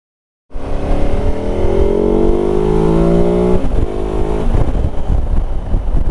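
A motorcycle rides a short local route around the downs, its engine loud and close, rising steadily in pitch as it accelerates through gears with wind rush, and no talking.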